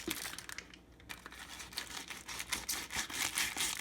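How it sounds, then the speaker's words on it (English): A knife slits the top of a plastic bag holding a corned beef brisket, giving close, quiet crinkling and tearing rustles that build in loudness over a few seconds. "So I'm going to use my knife here and cut the top of this bag."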